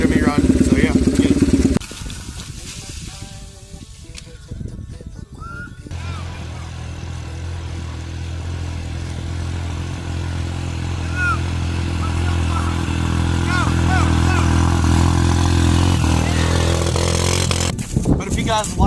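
Yamaha TTR dirt bike engine running steadily while being ridden, a loud continuous motor drone that settles in after a brief louder start, with no talk over it.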